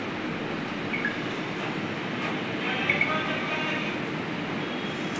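A Puri–Tirupati passenger train running on rails, heard as a steady rumbling roll with faint metallic squeals, fairly close and continuous, with a voice partly under it.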